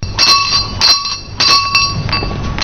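A ceremonial bell rings at the solemn opening of the Court of Auditors' 2023-2024 judicial year in a banquet hall, loud close metallic strikes that come in several bursts, each ringing briefly before the next.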